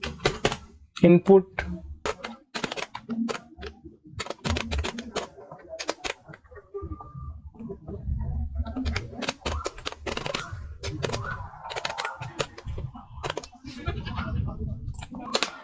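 Typing on a computer keyboard while building a CSS text box, with rapid irregular key clicks in bursts under a man's steady speech in Hindi.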